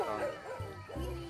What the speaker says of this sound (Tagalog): Mag-aaway na naman yung mga aso namin dito.